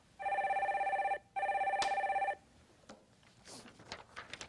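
A telephone rings twice in two even electronic bursts as the next caller is connected on a radio call-in show, followed by faint clicks and low line noise.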